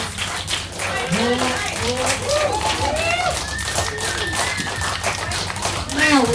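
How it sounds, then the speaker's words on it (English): A crowd at a cannabis law reform talk gives a round of applause, a fairly loud, sustained patter of clapping with whoops and voices mixed in over a steady hum. "Round of applause for Jim, please"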